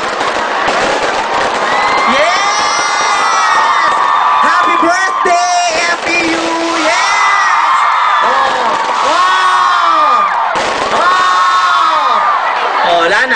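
Fireworks crackle and boom continuously while a crowd whoops and cheers, with voices talking loudly throughout.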